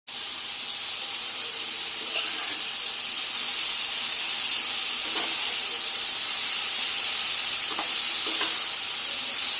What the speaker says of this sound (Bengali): মশলাটা ভালো করে কষিয়ে তারপরে ডুমুরটাকে দেব